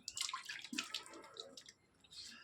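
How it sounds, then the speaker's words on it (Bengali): Cold water poured for a bath on a hot day, a few faint splashes and trickles in short bursts, close but quiet. "ঠান্ডা ঠান্ডা জল দিয়ে স্নান করি"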